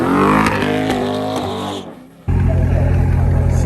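C8 Corvette drag racing a Jeep Trackhawk at Bradenton: a loud engine revs up through rising gears, drops away briefly, then a second powerful engine roars in close and sustained, with no talk.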